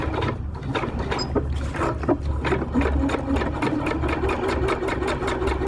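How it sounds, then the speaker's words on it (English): Sewing machine stitching the ridgeline seam of a lightweight backpacking tarp, a steady rapid close-up clatter running continuously, with a brief pause and a reverse-stitch pass. "Put the stitches, now I'll reverse it back to the edge."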